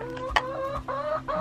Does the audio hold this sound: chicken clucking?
yes